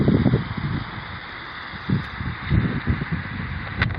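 Gusty wind buffets a microphone outdoors in low rumbling bursts, rising and falling over a steady hiss.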